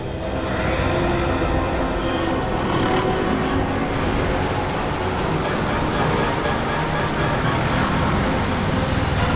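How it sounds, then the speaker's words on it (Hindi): A truck drives along a road, its continuous loud engine and road rumble holding steady close by, with a brief rattling burst near the start. "सर शायद यही वो ट्रक है। पीछा करो इसका।"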